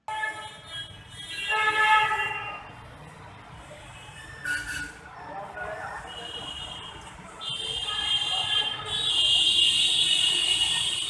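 Kanpur Metro train running at Moti Jheel station, a rumbling, rolling rail sound that swells and fades over about eleven seconds, with faint background voices in the station.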